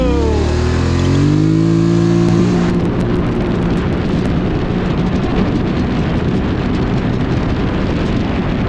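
A Polaris Sportsman XP1000 ATV in performance mode and all-wheel drive launches hard: a loud, near engine roar climbs quickly in pitch, then settles into a sustained rough drone with wind and gravel noise.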